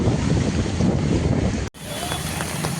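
Monsoon wind gusts roar and buffet the microphone on a main road in the rain, loud and continuous before a brief cut, then a softer steady blowing rush.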